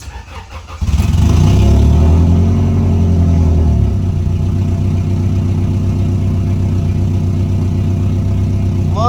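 An Acura Integra cranks briefly and catches, then settles into a steady, loud idle with a throaty rumble that eases slightly after the first few seconds and keeps running evenly to the end.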